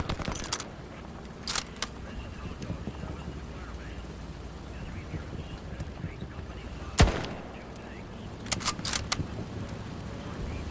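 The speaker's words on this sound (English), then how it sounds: "They're shooting at me" Gunfire in the World War II shooter Hell Let Loose: scattered sharp shots, one loud close crack midway and a quick cluster near the end, over a rumbling battlefield background.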